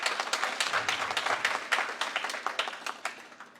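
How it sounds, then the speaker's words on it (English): Applause from a summit audience, with individual claps distinct at first, then thinning and fading out as the clapping winds down. "so let's give Hamza one more big round of applause"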